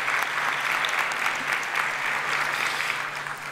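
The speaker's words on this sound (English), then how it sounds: "let's give our panel a round of applause" An audience at a county economic outlook event applauds its panel of speakers, a steady, even wash of clapping from many hands that carries on through the whole stretch with no voices over it.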